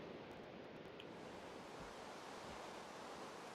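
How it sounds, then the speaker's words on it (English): Steady, even wash of video-game rain hissing continuously at low level, with no talk and no distinct drops standing out. "Oh, it's raining again."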